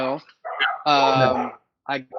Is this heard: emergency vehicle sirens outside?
no